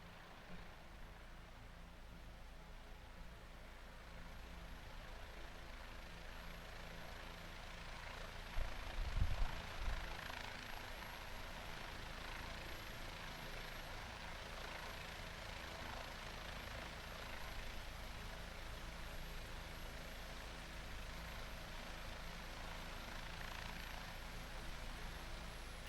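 A Huey helicopter drops in to land, its rotor and engine a steady, muffled drone that swells briefly partway through and then holds at a moderate level.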